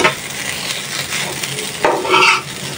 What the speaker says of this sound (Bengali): একদম ভাজা ভাজা করে ফেলছি।